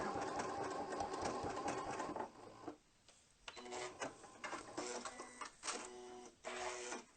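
Janome sewing machine stitching a hand-look quilting pattern with a blue dot bobbin case, a fast mechanical whirring run that stops, then resumes in short repeated bursts of stitching, close and clear.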